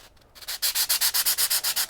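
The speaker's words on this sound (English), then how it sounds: "So what I'll do is I'll take my sanding block" A sanding block with 120-grit paper rasps back and forth across a wooden axe wedge in quick, even strokes, about a dozen scratchy passes, close and fairly loud.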